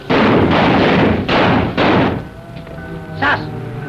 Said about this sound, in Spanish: Ya empezó algún bárbaro recibiendo el año a balazos.